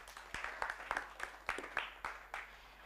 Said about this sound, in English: Another round of applause for Nelson